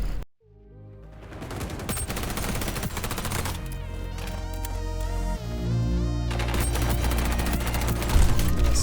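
MP7 submachine gun firing in the video game XDefiant: rapid automatic bursts rattle continuously over game sound, loud and close, with the fire growing heavier toward the end.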